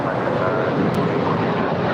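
A United Boeing 737-900ER, nine years old, taking off from LAX on a flight to Denver, heard as a loud, broad jet roar close by with a brief spoken word over it.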